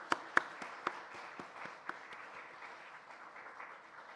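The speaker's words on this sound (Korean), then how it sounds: "우리 한번 축하의 박수 다시 한번 하도록 하겠습니다." Church congregation giving a short round of applause at a Wednesday service, beginning with a few sharp claps and settling into faint, scattered clapping in a reverberant hall.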